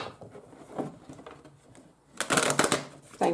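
Tarot cards are shuffled in short bursts, a few soft riffles early, then a louder, close crisp riffle and a final snap near the end, with quiet moments between.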